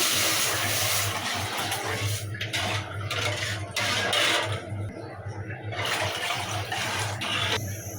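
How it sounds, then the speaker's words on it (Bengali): Water pours and splashes into a pan of roasted black gram lentils (mashkalai dal) with a few clinks of metal, close up over a steady background hum. "এখন আমি পানি দিয়ে দেব।"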